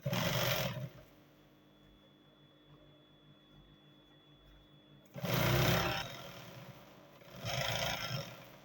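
A sewing machine stitches a folded hem on cargo pants in two loud whirring bursts, a short one and then a longer one, with a quieter hum between them and no talking.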